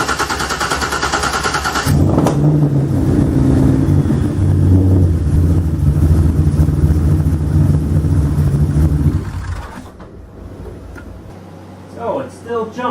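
A Corvette engine cranks and fires up with the belt shim removed, settling into a loud, steady running drone before shutting off, followed by faint clicks.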